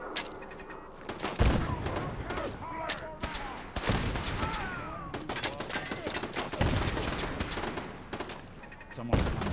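Rapid bursts of gunfire from a turret in the video game Fallout, crackling in dense repeated volleys alongside game effects and occasional speech throughout.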